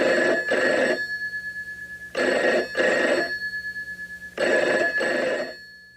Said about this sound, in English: That phone call is from Jack Walten to Felix Kranken.